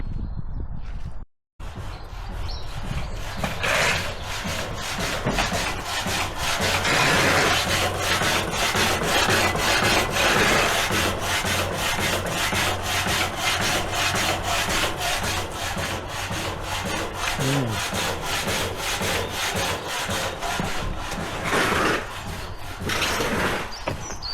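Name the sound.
hacksaw cutting pieces for trailer bed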